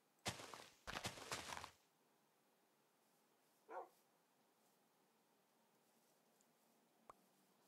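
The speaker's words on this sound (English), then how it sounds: "My dogs came back." Minecraft dogs barking: a quick pair of close barks, then a short yip a couple of seconds later and a faint tick near the end, with near silence between.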